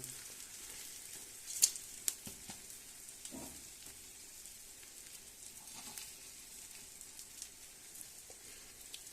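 Instant Mivina noodles with eggs frying in a pan, a faint steady sizzle with occasional small pops and crackles.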